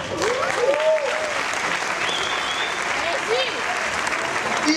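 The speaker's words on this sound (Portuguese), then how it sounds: "Palmas, por favor." Audience applause at a show for assistants, dense steady clapping throughout, with a voice talking and whooping over the crowd.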